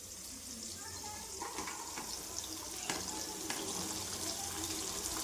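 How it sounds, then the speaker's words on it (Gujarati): Corn kernels tipped into a pan of tomatoes and chillies in hot oil for makai chevdo, giving a steady frying sizzle with scattered soft clicks and stirring scrapes throughout. "હવે આપણે આ મકાઈના દાણા પાડ્યા છે એ બધા હવે આપણે આમાં નાખી દઈશું"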